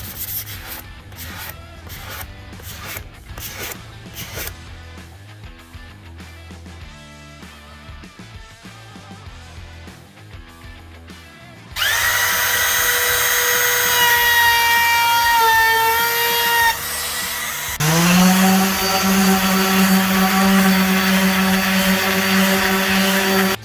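A palm sander fitted with 220-grit paper rounds over and smooths the router-cut edge of a faux epoxy river table. A loud, steady whirring grind runs alone through the second half, following softer rhythmic rubbing strokes.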